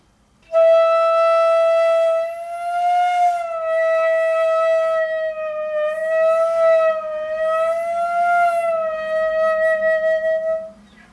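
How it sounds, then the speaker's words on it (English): A loud, sustained flute note that wavers and bends slowly up and down in pitch, played alone for about ten seconds. "And then we can do these bends"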